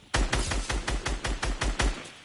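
Rapid gunshots in a shooter video game, about ten sharp, evenly spaced shots in a steady fast rhythm, loud and close, with no talking over them.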